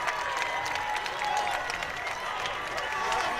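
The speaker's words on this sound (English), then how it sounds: "The crowd is interrupting here." Stadium crowd at a varsity boys soccer playoff, Haddonfield Memorial at Seneca, roars and cheers steadily after a headed goal off a corner, with a commentator's voice running over the noise throughout.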